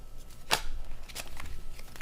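Tarot cards are shuffled quickly on a worn tablecloth at a reading table, giving a sharp riffle followed by softer flicking and shuffling sounds, close and clear.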